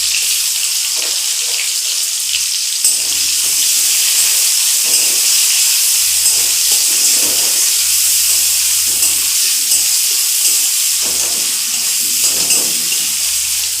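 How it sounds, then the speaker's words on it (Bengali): Whole spices with cinnamon and chopped onion fry in hot oil for a fish kalia, giving a continuous close, loud sizzling hiss with soft bursts of spatter and no talk. "দারচিনি দিয়ে ফোড়নটাকে একটু লাল লাল করে ভেজে নেব। একটু পেঁয়াজ কুচি দিয়ে দেব।"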